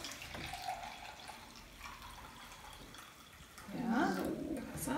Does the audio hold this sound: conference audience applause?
no